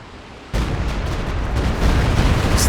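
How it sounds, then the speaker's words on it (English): Stuka dive bomber barrage in Company of Heroes 2: after half a second of quiet, a loud, sustained wall of explosions and booming artillery bursts rolls on, building slightly toward the end. "Stuka barrage"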